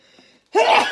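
After a quiet lead-in, a single loud, close sneeze bursts out indoors, with a dog nearby.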